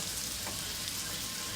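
Garlic, onion, pepper and white mushrooms sizzle in a pan for a stir fry, a faint, even hiss throughout with no stirring or voices.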